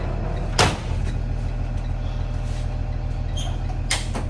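A mallet is stowed in a bus compartment during a pretrip inspection, giving one sharp clunk early on and a couple of lighter knocks later over a steady low engine rumble.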